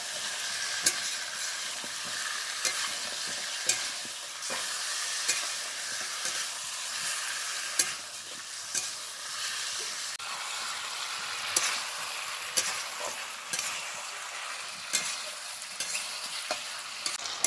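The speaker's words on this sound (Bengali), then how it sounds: "যতক্ষণ মাংস খুব ভালোভাবে কষানো না হচ্ছে ততক্ষণ কষাবো" Chicken feet masala with spices sautéing in a pan, a steady soft sizzle with scraping stirs at intervals, no voices.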